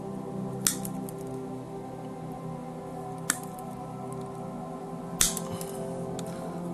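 Snips of small pliers or cutters trimming the ends of wires before soldering LED strips, three sharp, close clicks spaced a few seconds apart over a steady low background hum.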